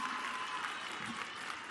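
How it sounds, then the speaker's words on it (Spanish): Steady crowd applause fills the air for President Claudia Sheinbaum at a public housing handover event in Cadereyta, Nuevo León, a continuous, even wash of clapping heard at a modest distance. "Un aplauso a la Presidenta Claudia Sheinbaum por esta gira"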